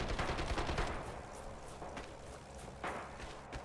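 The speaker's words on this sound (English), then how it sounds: "right now, I switch it to full auto, and you can just go ham with the gun." Full-auto bursts from an MKb.42(H) assault rifle in Red Orchestra 2, rapid crackling shots up front followed by scattered distant gunfire and shuffling movement, fairly loud and unaccompanied by talk.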